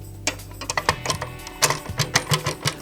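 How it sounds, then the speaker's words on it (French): A screw on the riving knife of a TWX7 workcentre table saw being unscrewed and tightened, heard as a rapid run of close, sharp metallic clicks and ratcheting ticks in an uneven rhythm, with no talking. "ça c'est la vis qu'on dévisse et qu'on revisse ensuite pour serrer le couteau"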